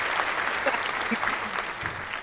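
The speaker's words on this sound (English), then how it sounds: "I think that also deserves a round of applause." An audience claps steadily throughout, a dense wash of applause that stays even in level, with a faint voice briefly underneath.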